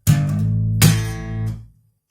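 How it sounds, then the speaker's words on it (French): Two sharp, bright slapped bass notes, sliding up to the octave, the second struck just under a second after the first, each ringing out with a deep, sustained tone. "on va faire une espèce de glissière en slapant comme ça"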